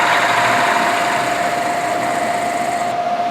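A milling machine runs steadily while slotting a hole with the quill, giving a constant loud motor hum with a sustained whine, alone and without talk.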